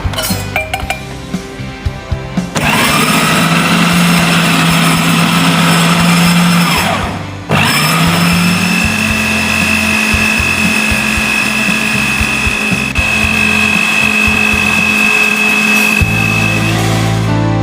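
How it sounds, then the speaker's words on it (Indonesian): A blender grinds taro and other ingredients for Papuan taro noodles. A few clinks come first, then the motor roars up loud and steady, cuts out briefly, and restarts for a long continuous whirring run. "kemudian kita akan blender sampai halus."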